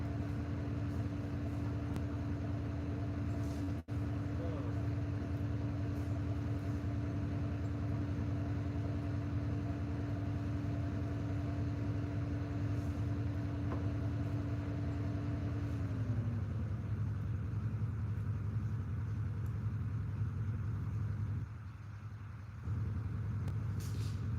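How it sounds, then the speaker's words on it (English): A vehicle in motion, producing a continuous low engine rumble with a steady whine that drops in pitch partway through, then the sound thins and dips briefly near the end. "vehicle movement."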